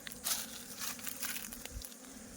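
A swarm of honey bees at a hive hums in a thick, continuous buzz with close, shifting intensity and scattered rustling, with no talk.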